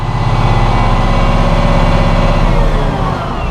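A Massey Ferguson 7715S row crop tractor engine runs loud and steady at high revs under PTO load, a continuous deep diesel drone that eases slightly near the end.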